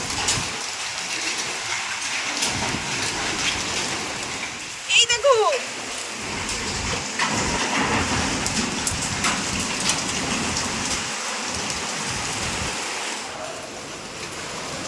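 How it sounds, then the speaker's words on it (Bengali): Heavy rain with hail pours down in a dense, steady roar, with an excited voice speaking briefly over it partway through. "শিলাবৃষ্টি হচ্ছে, শিলাবৃষ্টি, শিলাবৃষ্টি হচ্ছে"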